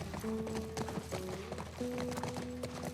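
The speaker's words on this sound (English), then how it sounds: "Here we are in Remake, and time for the horse riding." Horse riding in The Last of Us Remake video game, with a steady clip-clop of hooves under faint musical tones throughout.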